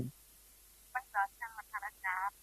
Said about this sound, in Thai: พอดีมีสายเข้ามาสายหนึ่งเดี๋ยวรับสายนี้ก่อน